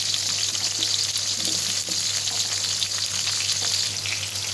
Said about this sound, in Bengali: এঁচড় আর পটলটাকে একটু ভালো করে ভেজে নিচ্ছি প্রথমে